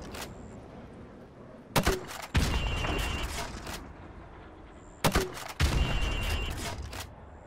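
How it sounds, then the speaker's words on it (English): Grenade launcher rounds fired at building windows in a Call of Duty: Modern Warfare Remastered training mission, two separate bursts of sharp firing and booming impacts, each followed by rumbling debris, loud and near with quiet gaps between. "Right, now pop a grenade into windows 5, 6, and 7."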